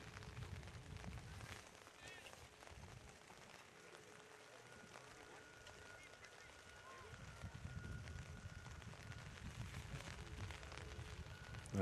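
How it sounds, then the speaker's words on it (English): Heavy summer rain falls steadily during a girls' soccer combine in Montreal, a continuous soft hiss with faint distant shouts and a whistle-like tone in the background. "this is starting to come down a little bit harder than normal for the rain"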